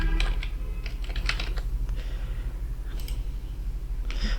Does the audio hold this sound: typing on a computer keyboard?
yes